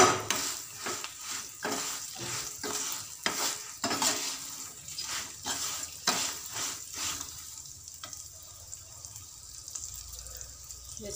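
Tempering frying in a pan for rice rava pulihora: a low sizzle punctuated by a series of sharp scraping stirs in the first seven seconds, then a quieter steady fry.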